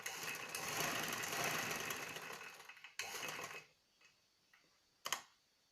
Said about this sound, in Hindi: अब उसी शेप में हम इसकी सिलाई लगा देंगे इसके ऊपर।